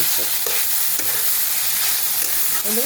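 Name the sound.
broccoli frying and being stirred in a wok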